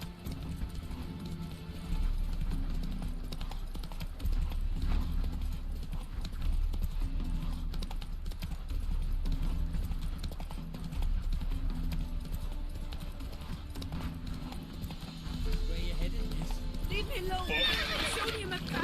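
Horse hooves galloping in The Witcher 3 game, a continuous rhythmic clip-clop with an occasional whinny, heard throughout under someone talking.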